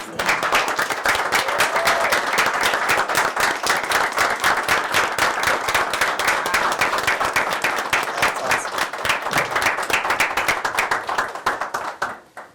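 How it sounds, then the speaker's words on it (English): A city council meeting audience in Lathrup Village applauds the newly appointed police chief. Crisp, close individual claps form an even, sustained round for about twelve seconds before fading out. "I appreciate the applause."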